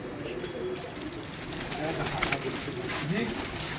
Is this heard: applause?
no